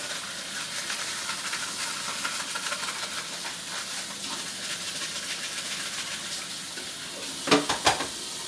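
Water runs steadily from a tap while the strainer from a Capresso iced-tea maker is rinsed beneath it, giving a continuous hissing wash with a few sharper clatters and splashes near the end.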